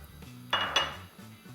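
Salad ingredients such as parsley and onions going into a bowl in a home kitchen, a couple of quiet clinks and knocks of a utensil against the bowl, with faint background hum and no talking.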